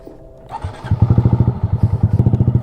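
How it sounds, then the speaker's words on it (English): A Honda Grom 125cc motorcycle engine starts up and settles into a loud, close, rapidly pulsing idle with quick rhythmic throbs and no talking. "let's hop on the Grom and do some wheelies"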